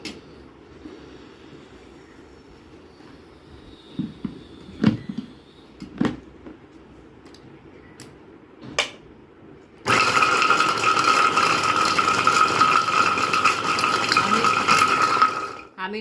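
Electric vegetable chopper peeling garlic cloves, first a few sharp knocks and rattles, then running at its second speed with a loud, steady whirring rattle that starts abruptly and holds for several seconds.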